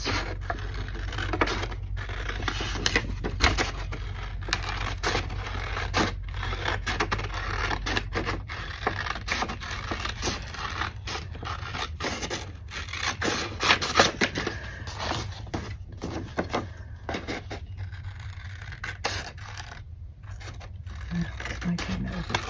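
Scissors snipping around a stitched fabric letter, close dry scraping and rhythmic cuts continuing through the whole stretch, with slight rustling of the cloth.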